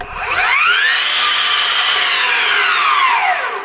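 A Bosch PROFACTOR 18V 12-inch miter saw spins at its lowest speed, a loud, steady motor whine that rises and then slowly falls away over a few seconds.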